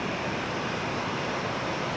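A Boeing 737-700 jet rolls down the runway, a dense, loud, steady engine roar that fills the whole moment with no pauses or voices.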